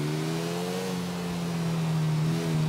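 NRG-900 motorcycle engine in GTA IV, a steady loud drone that rises and falls slightly in pitch as it revs, running continuously and alone.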